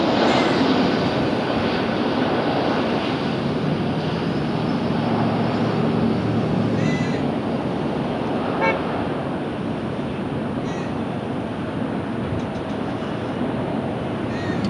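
Delta jet airliner flying at Los Angeles International Airport, a steady loud broadband roar of engine noise that holds throughout with only slight swells, no voices.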